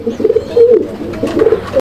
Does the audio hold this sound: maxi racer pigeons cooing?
yes